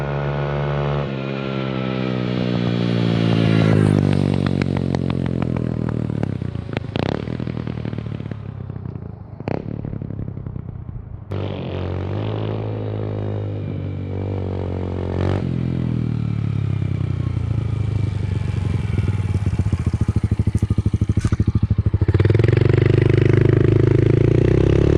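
A Yamaha TT-R 110 dirt bike with a freshly jetted 110cc carburetor is ridden past at full speed, its engine revving loud and close, rising and falling through several gears and passes before a long sustained high-rev drone.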